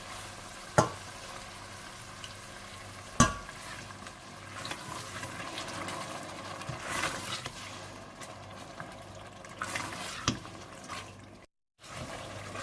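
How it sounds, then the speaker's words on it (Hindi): Yogurt frying with masala in a pan for coal butter chicken, a soft steady sizzle with stirring and a couple of sharp utensil knocks, close and moderately quiet, briefly cutting out near the end. "और जब मसाला अच्छी तरह से भून जाए तो आप इसमें दही डालकर भून लें।"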